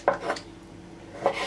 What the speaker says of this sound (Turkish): Bu şekilde küçük küçük doğrayacağım.